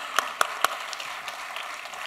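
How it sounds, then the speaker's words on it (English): Audience applause at a season launch event for a talk show, opening with three sharp, loud claps close by, then thinning into a softer scattered patter of hands. "Can we give him a round of applause for that?"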